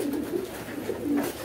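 A white Beauty pigeon coos in a loop near a breeding loft, a low, throaty rolling call repeated several times over a steady background, close and moderately loud.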